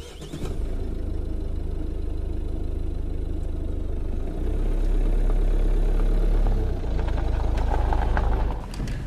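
A vehicle engine starts and settles into a steady idle, a close, continuous low rumble that swells slightly partway through before easing off, with no speech.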